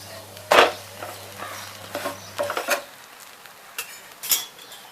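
An onion uttapam is flipped in a pan: a few sharp spatula scrapes and clinks of metal against the pan, loudest early on, over a faint sizzle without speech.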